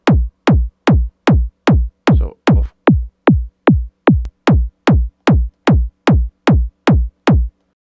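A steady four-on-the-floor hard techno kick drum through wave shaper distortion, heavily distorted and punchy, repeating evenly at a fast tempo, loud and alone.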